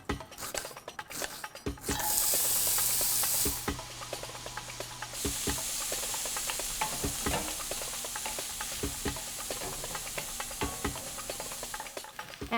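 An onion sautés in a sauté pan that was first used to brown eggplant. A constant sizzle runs under repeated scraping stirs and spatula taps, with a louder hiss burst early on.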